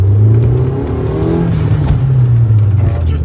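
BMW E36 fitted with a smaller turbo, engine revving loudly and steadily up close with a droning, slightly rough note throughout.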